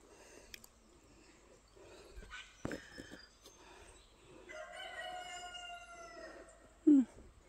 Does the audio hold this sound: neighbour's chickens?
yes